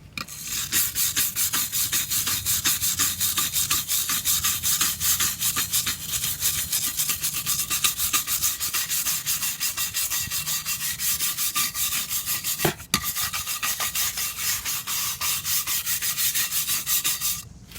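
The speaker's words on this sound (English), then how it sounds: "Like 30 seconds of scrubbing." Rusted barbell weight plates are scrubbed with fast, rhythmic, raspy strokes that run nonstop and close up for about eighteen seconds, with one brief knock midway.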